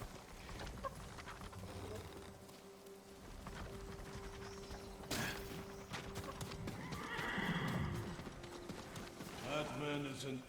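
In the samurai video game Ghost of Tsushima, horses' hooves clip-clop and neighs and whinnies cut in over steady ambience, with game voices speaking in the background throughout.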